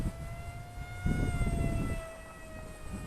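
An LDARC Tiny Wing 450X, a small electric RC flying wing with a new receiver and ESC, flies at about half throttle, its motor whining as a steady high tone with wind rumble outdoors.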